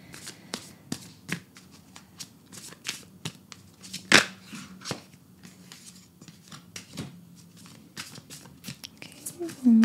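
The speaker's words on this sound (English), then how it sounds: "This deck's been a little bit difficult for me to read recently, so I'm going to shuffle it really good." A tarot card deck is shuffled by hand in quick riffles and soft flicks, with scattered taps and one louder snap partway through, close and fairly quiet.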